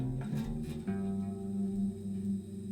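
A Glarry bass guitar note rings out with a long, steady sustain, its deep tone holding evenly at a consistent level for the whole stretch with no talking over it.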